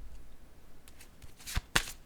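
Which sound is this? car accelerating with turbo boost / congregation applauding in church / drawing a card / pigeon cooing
drawing a card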